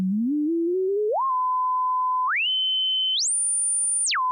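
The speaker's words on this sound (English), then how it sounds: "I'm gonna take a simple sine wave and I'm gonna move the pitch around." A pure sine tone glides upward in pitch. It climbs slowly at first, then jumps in steps to higher and higher held notes before dropping back down at the end. The tone is steady in loudness, smooth and electronic, and plays alone.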